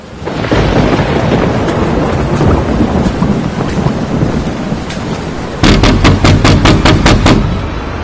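Steady heavy rain with rumbling thunder throughout, then a louder burst of rhythmic pounding near the end, with no voices.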